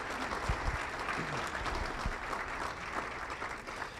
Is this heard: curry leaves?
no